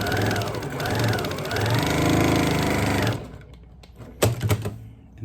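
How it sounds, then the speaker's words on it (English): A domestic sewing machine runs steadily for about three seconds while stitching fabric scraps laid on top for a quilt square, its motor hum loud and close, then stops; a few faint clicks and handling noises follow. "We're back over to the sewing machine, and I'm again laying it on top."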